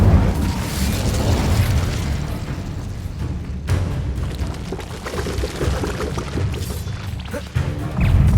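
Incendio fire spell cast in Hogwarts Legacy, a dense roaring burst of flame with crashing, booming impacts that stays loud throughout, with a sharp fresh surge near the end and no voices.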